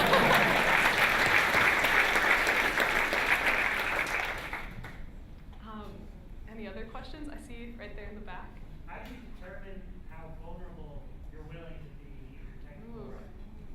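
Conference audience bursts into applause at a technical writing talk, a dense, loud clatter of clapping for about four seconds that fades as a speaker starts talking.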